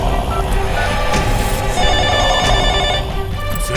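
A telephone bell rings loudly and without a break in a dramatic film scene, a bright trilling tone that keeps going for several seconds.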